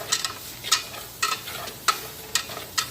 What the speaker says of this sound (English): Just stir it all together.